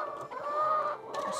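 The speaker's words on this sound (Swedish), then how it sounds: "hönsen blir intresserade och vill vara med" Hens clucking and murmuring close by, a steady run of soft throaty calls with a brief rise at the end.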